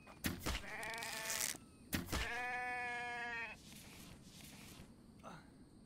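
A sheep in the video game The Infected bleats twice in long, wavering cries, each lasting over a second, with a short pause between. The bleats are fairly quiet and sit over faint background game noise.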